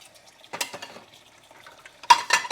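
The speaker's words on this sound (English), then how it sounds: "I have a cup right here. I also have this colander. Go ahead and put the colander in there. Clean this cup." A cup being hand washed at a kitchen sink, with a colander nearby, giving two bursts of clinking and rubbing, the second louder and closer, separated by quieter handling noise.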